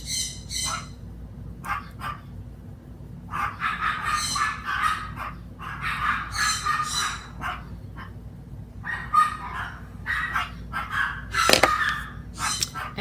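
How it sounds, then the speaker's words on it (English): Dogs barking wildly indoors, repeated sharp barks and yips in quick, uneven bursts, close and fairly loud, with no talking over them. "I'm so sorry for my dogs barking like crazy."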